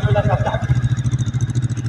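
An FKM Victorino 250i motorcycle engine fires and settles into a steady, pulsing idle, close and fairly loud, with a voice briefly heard at the start.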